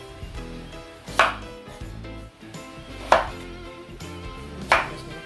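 Knife cutting vegetables such as yam, chocho and carrot for a home-cooked Jamaican pumpkin soup with beef, three sharp chopping strikes spaced a second or two apart over a low kitchen hum, close and with no talk.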